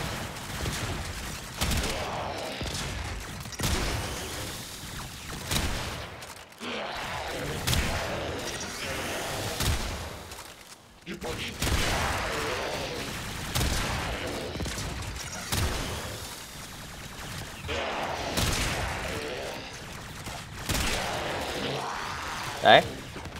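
Sancti Tigris shotgun blasts from the Warframe video game, loud repeated booming shots spread across the whole stretch, with someone talking over the gunfire.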